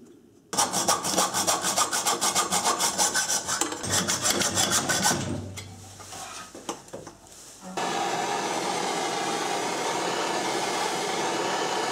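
Rusted exhaust pipe for a Honda Trail 90 is cut with a rapid rasping, scraping rhythm at close range, broken by short pauses and stop-start strokes, then a steady whirring tool noise takes over.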